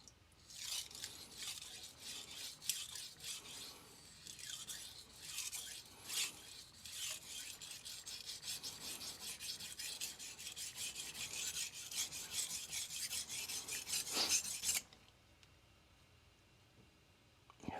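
A knife is stroked across an HK 3000-grit super vitrified diamond stone, giving quiet, rapid rasping scrapes in a continuous back-and-forth rhythm that stops abruptly near the end.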